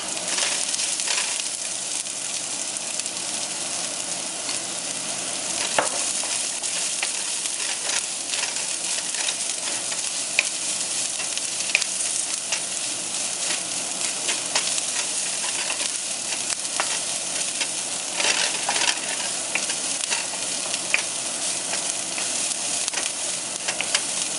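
Onion sautéing in a pan with ginger, chili and garlic for vegetable Manchurian, a steady close sizzle and frying hiss lasting throughout, with occasional clinks of stirring.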